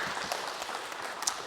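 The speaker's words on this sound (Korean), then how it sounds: "우리 박수로 환영하겠습니다." Church congregation at a Sunday service in Berlin applauding to welcome a first-time visitor, a steady, moderately quiet wash of clapping throughout with a few sharper claps standing out.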